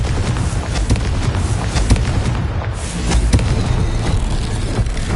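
The Confringo fire spell exploding in Hogwarts Legacy, a run of loud booming blasts and crackling bursts with rumbling low end, close and steady across the stretch, with no voices heard.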